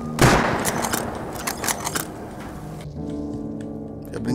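Gunfire in the survival video game Rust: several sharp, loud shots crack close by in the opening seconds. A quieter, steadier stretch with faint tonal game sound follows.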